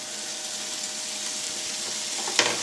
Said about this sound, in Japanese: ここからまたベーコン炒めながら玉ねぎ炒めれるで